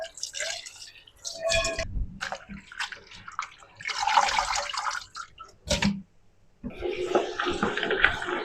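Running tap water splashes and gurgles in bursts as pieces of raw mutton are rinsed in a kitchen, with short pauses between pours and rinses, close and fairly loud.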